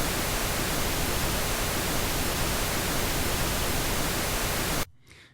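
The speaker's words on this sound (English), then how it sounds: "And pink noise is something in between." A steady, full-band hiss of pink noise test signal runs evenly without variation, then stops suddenly, leaving a faint quiet tail.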